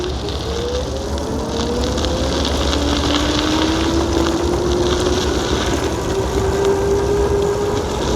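Varstrom 48V 750W geared hub e-bike accelerating hard on throttle, a rising motor whine climbing steadily under strong wind rush and road noise throughout.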